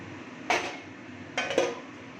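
A metal lid is set onto a pot of potato curry: a clattering knock, then a pair of quick rattling clinks as it settles, close by over a low kitchen hum.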